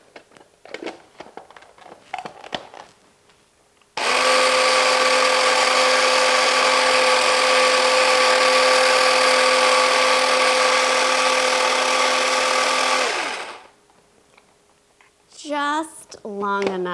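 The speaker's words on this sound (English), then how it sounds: "Just long enough to blend up those capers" An Instant Pot blender whirring loudly and steadily for about nine seconds as it purees capers with garlic, salt and black pepper into a dressing, then cutting off, with a person talking before and after.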